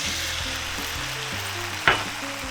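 Diced pumpkin with a dash of salt and dry white wine sizzles steadily and loudly in a pan, a constant close frying hiss with one brief clatter near the end.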